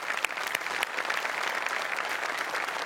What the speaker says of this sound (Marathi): यांच्यासाठी एकदा जोरदार टाळ्या